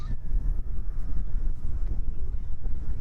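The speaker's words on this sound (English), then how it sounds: "Nice and windy." Strong wind buffets the microphone outdoors near Chicago, a steady low roaring rush that fills the whole stretch without pause, loud and close.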